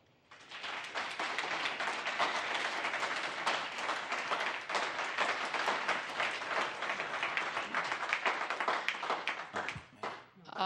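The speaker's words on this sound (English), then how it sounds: "Please hold your applause." Sustained applause fills a council budget workshop room, dense clapping from a crowd for about ten seconds, steady and moderately distant before cutting off at the end.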